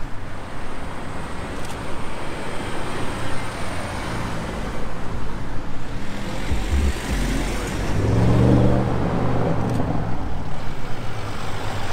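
A BMW X6M followed by an Audi RS6 drives along a street in Knokke amid general traffic noise, with engine sound swelling as the cars pass near the end.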